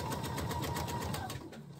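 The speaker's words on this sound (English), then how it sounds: "Now I'm going to stitch away." Sewing machine stitching fabric for an ice cream pint cozy, a rapid, steady mechanical chatter close by that slows slightly near the end.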